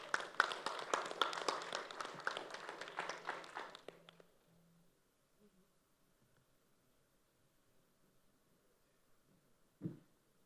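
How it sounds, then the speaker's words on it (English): Audience applause at a recruitment panel ceremony honouring a co-founder, a burst of clapping for about four seconds that stops abruptly, followed by near silence and a single faint thump. "Can we have a huge round of applause for him?"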